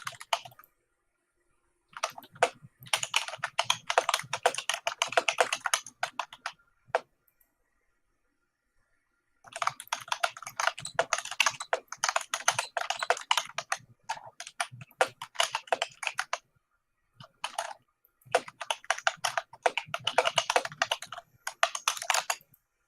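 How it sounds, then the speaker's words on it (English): A very loud computer keyboard clatters nearby during a session of Civilization VI, with dense bursts of rapid keystrokes that stop for a few seconds and then pick up again, and no voices. "My typing still super loud."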